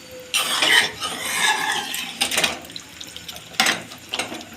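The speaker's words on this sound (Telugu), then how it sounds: "కొద్దిగా పోస్తా నీళ్ళు." Water is poured into a pot of raw chicken gravy, a close, loud splashing gush followed by a few further splashy bursts and stirring noises, with no talking.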